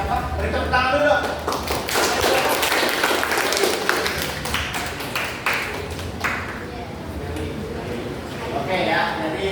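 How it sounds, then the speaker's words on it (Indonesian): Students in a classroom clap for a classmate in a brisk round of applause that fills most of the stretch, with scattered individual claps and a teacher speaking faintly at the edges. "Beri tepuk tangan dulu dong."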